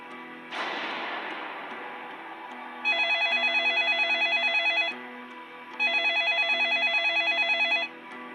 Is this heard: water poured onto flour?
no